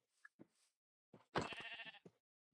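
Sheep in the Minecraft video game bleating: a short faint bleat, then one loud wavering bleat, with small clicks and blips around it, fairly close and alone.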